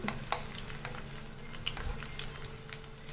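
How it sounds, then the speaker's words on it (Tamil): Oil sizzling and crackling steadily as masala-coated fish fries in a pan of cold-pressed sesame oil, with occasional sharper pops and a light scrape of stirring, close by. "நான் இன்றைக்கி செக்கில் ஆட்டின எண்ணெயில் தான் பொரிக்கிறேன்"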